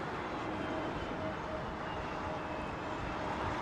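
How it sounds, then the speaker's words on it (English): Air Malta Airbus A320neo at London Heathrow Airport, a steady, distant broadband jet engine roar that holds evenly throughout without any talk. "Nice Air Malta 320 Neo."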